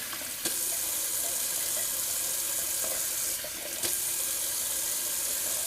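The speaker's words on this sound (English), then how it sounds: "I'm just gonna rinse this alum off my face." Tap water runs steadily into a bathroom sink while alum is rinsed off the face after a shave, a close, continuous rushing splash with faint splashes of hands in the stream.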